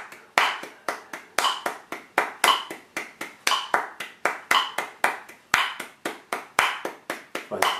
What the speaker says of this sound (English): you're going to hear the click and then you're going to hear me clap